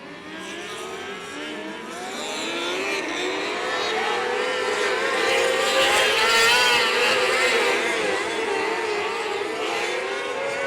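Race cars refire their engines together on a track during a qualifying session, a loud, dense, wavering roar that builds over the first two seconds and then holds steady throughout.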